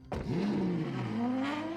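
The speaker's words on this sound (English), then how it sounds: "Gotta make the engine rev." A sports car engine revs hard after a sharp start, holding a loud, steady growl whose pitch dips and then climbs again. It sounds close, and no one speaks.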